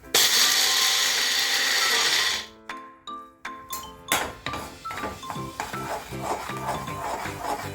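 Jaggery being stirred in a pan, a stretch of loud rough scraping that gives way to a series of sharp metallic clinks and knocks at an uneven pace, no voices.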